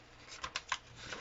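Paper being folded in half for an origami jumping frog, a few soft crisp creases and rustles close by, quiet and brief.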